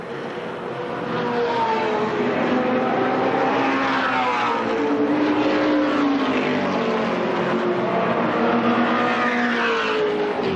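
Stock cars racing side by side at Winchester Speedway, a dense, loud roar of several engines blending into one sustained drone with shifting pitch as the pack runs the front straightaway.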